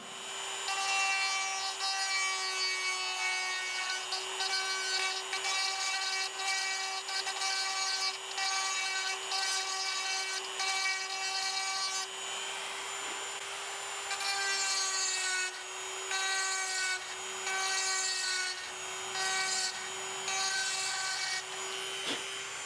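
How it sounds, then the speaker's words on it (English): Dremel rotary tool fitted with a conical cutter carving into the wood of a Martin guitar neck, a continuous high whine with gritty rasping, briefly dipping and resuming, steady and close with no talk. "So I make that void with the conical cutter and the Dremel tool."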